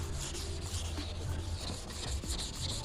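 Sanding a Fiat Uno SX body panel to remove 80-grit scratches, a steady close rasping rub that continues without pause.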